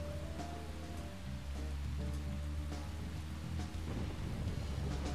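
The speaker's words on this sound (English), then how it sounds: "As you can see, it started to rain." Steady rain falls in the video game Deadly Premonition, a dense, continuous hiss of drops on surfaces with a low rumble beneath, sounding fairly loud and constant throughout without talk.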